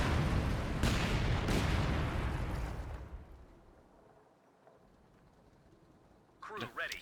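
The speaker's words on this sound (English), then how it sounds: "your dad is calling in a light artillery barrage right on top of this building here" Light artillery barrage in Company of Heroes 2 crashing onto a building, with a loud sustained rumble of blasts for the first three seconds that then fades away. Talk continues over it.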